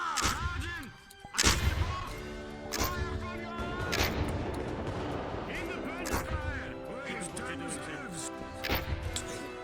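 Gunfire crackles in a VR roleplay battle game, with repeated sharp shots and bursts scattered throughout over a dense clamor of voices and shouting.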